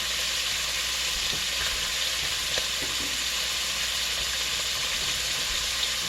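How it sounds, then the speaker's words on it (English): Beef browning in a pan for a stew with okra, corn, tomato and wine gives a steady, close hiss of sizzling that runs unbroken throughout, with a few faint scrapes and clicks from stirring. "And I'm browning the meat just to add the extra layer of flavor to the stew."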